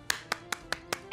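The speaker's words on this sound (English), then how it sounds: "Now let's clap fast." Children in a pre-K class clap their hands fast: five crisp, evenly spaced claps close by, each about a fifth of a second apart.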